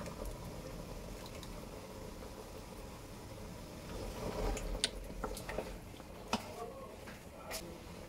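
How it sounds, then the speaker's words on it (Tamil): Mutton curry with coconut milk simmers with a soft, continuous bubbling, broken by a few sharp pops and crackles. "நல்லா இப்போ கொதிக்க ஆரம்பிச்சிருச்சு"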